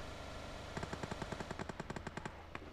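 Rapid automatic gunfire from behind in the BGMI battle royale video game, a burst of about a dozen evenly spaced sharp shots, moderately loud, with a lone trailing shot, no talk.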